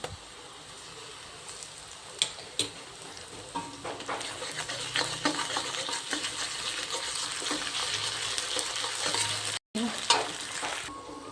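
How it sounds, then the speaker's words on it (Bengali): Ginger garlic paste frying with onions in a pan, a continuous close sizzle with occasional stirring knocks and scrapes, a brief dropout near the end, no voices. "এদিকে পেঁয়াজ ভাজা হয়ে গেছে, এবার দিয়ে দেবো আদা রসুন বাটা।"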